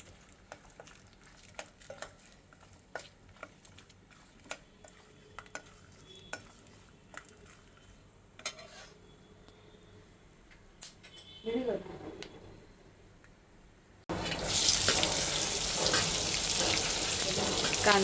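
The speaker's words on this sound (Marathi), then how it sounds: "शेंगदाणे आधी भाजून घेऊ." Peanuts roasting in a pan give a steady sizzle with intermittent stirring clicks and scrapes, and a louder, dense burst of frying fills the final few seconds.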